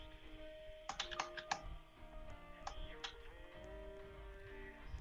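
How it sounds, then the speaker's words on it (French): Quick bursts of keyboard clicks, a handful of keystrokes in two short runs, faint against a soft background of tonal music. "Ce bon bruit de clavier."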